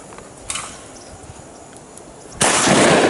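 A single shotgun blast fired at a dove during an outdoor hunt, a sharp loud report arriving near the end after quiet windy field ambience and a faint earlier click.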